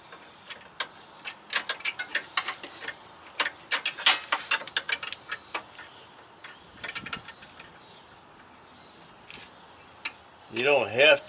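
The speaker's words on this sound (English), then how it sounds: "You don't have to use flare nut wrenches. I just like to, because it protects the corners of that brass outer nut." Clicking and ratcheting of a flare nut wrench tightening the brass outer nut on a fuel line of a 1994 GMC Sonoma, a series of sharp close clicks in bursts, with a short tonal whine near the end.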